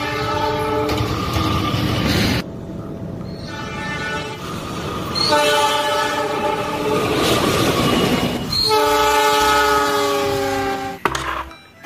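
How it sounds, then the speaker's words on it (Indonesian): A CC06 diesel locomotive passes close by, sounding several loud, sustained multi-tone horn blasts over a heavy rolling rumble, with a sharp clank and screeching wheels near the end. "Ada lokomotif"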